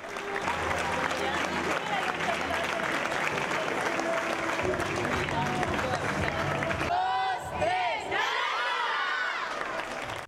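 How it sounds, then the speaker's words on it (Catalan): Sustained applause and cheering roll through the stands for several seconds, a dense crowd ovation with scattered shouts; near the end it thins out and voices speak over it. "una llarga ovació de la graderia"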